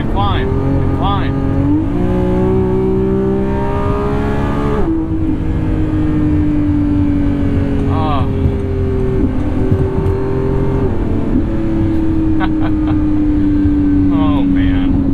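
A Lamborghini Revuelto supercar accelerates hard at highway speed on a test drive, its loud engine note climbing steadily and then dropping briefly at each gear change, heard continuously from inside the car.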